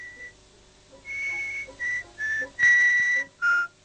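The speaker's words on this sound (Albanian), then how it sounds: "dëgjoi një fërshëllim" Whistling in a children's tale about a fox and a hedgehog: six short, bright whistled notes, the first alone, then a choppy run of five at varying pitch, clear against near silence.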